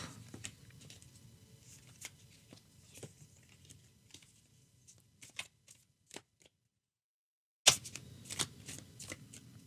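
Oracle cards being shuffled, soft papery riffles and slaps that come in scattered bursts, quiet and close, with a brief gap of silence before a final flurry of shuffling.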